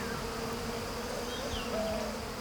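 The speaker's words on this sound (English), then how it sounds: "Here in the mountains, they have the biggest species of honeybee in the world." Giant cliff bees, the world's largest honeybee species, swarming at a hive built on exposed mountain rock, a dense continuous buzz with a few individual bees passing near, steady throughout.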